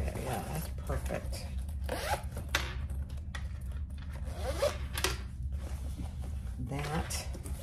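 A zipper on the pocket of a sewn convertible hip bag is pulled back and forth in repeated quick rasping strokes, close up, while a person talks over it.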